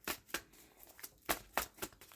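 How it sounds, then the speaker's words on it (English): A deck of tarot cards being shuffled up close, a rapid series of sharp papery riffles and slaps in quick irregular bursts, fairly quiet with no talking. "let's shuffle the cards."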